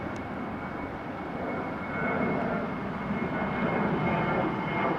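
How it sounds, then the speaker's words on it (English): United Airlines Dreamliner flying a circuit at London Heathrow Airport, its engines a steady broadband roar at moderate distance, swelling slightly louder partway through, heard alone without talk. "Oh, that United Dreamliner. He's gonna do another circuit, isn't he?"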